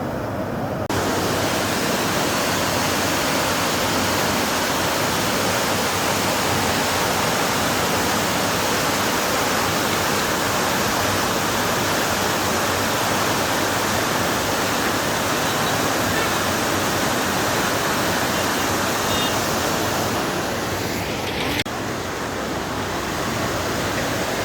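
Strong river current at the Gajoldoba picnic spot, a loud, continuous broadband rush of water that fills the whole stretch without pause, close and unbroken, with no voices.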